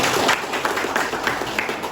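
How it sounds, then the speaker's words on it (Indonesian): Audience applause at a military district commander's visit to a local sub-district command, a steady dense patter of clapping from a crowd, fairly close and continuous throughout. "tepuk tangan buat beliau"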